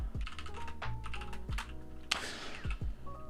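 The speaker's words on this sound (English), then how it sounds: "I keep accidentally pressing spacebar" Rapid keystrokes on a computer keyboard during a typing test form a dense, uneven clatter of close, sharp clicks and a heavier key thump, with no talking.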